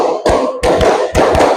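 Group plays the 'tepuk 1 2 3' clapping game in a classroom-style session, with three bursts of unison claps in quick patterned groups, loud and near, separated by brief pauses.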